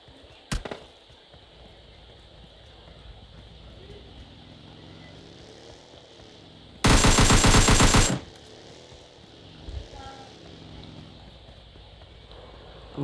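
Gunfire is exchanged in a video game: a sharp single shot early on, then a loud dense burst of rapid automatic fire lasting about a second, followed by a lone fainter shot later, over low background game ambience.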